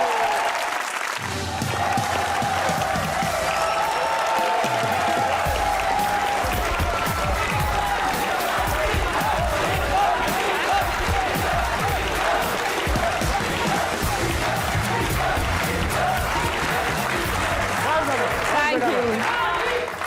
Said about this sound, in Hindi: Put your hands together for Neelam Munir.